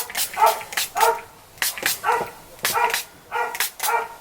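A dog barks repeatedly indoors, a string of sharp, mid-pitched barks and yips at a steady, insistent rhythm, fairly close and moderately loud.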